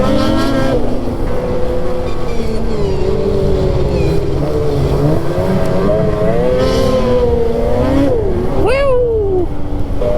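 A four-wheeler ATV with power steering runs along a snowy trail in Canada, its engine droning loud and close with a wavering pitch and a sharp rev near the end.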